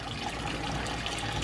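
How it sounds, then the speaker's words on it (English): Hot water pours steadily into a cooking pot, a continuous close splashing trickle with no talk over it. "We're just going to put hot water."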